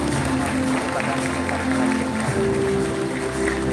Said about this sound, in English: You have to give her another huge round of applause.